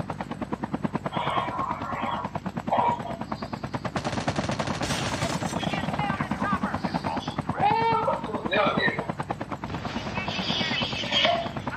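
Helicopter in the video game Call of Duty Mobile, its rapid rotor chop running continuously throughout, with bursts of gunfire and game effects layered over it and players talking at times.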